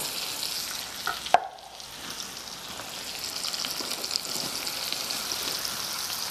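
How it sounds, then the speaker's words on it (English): Melon pieces frying in a pan for linguine, a steady close hiss and crackle of sizzling oil with a sharp clatter as they go in, then continuous even sizzle throughout. "I'm putting in the melon, and maybe Michaela, you could come over so that they can see inside the pan."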